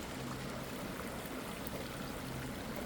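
Creek water flows steadily below a hillside trail, a continuous broadband rush and trickle that stays even and close throughout with no voices.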